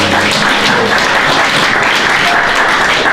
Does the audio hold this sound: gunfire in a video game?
no